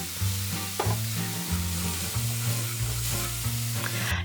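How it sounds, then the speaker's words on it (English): Mushrooms sautéing in a pan give off a steady, close sizzle that runs the whole time, with a low tonal hum underneath. "Saute for 5 minutes or so until lightly brown and tender."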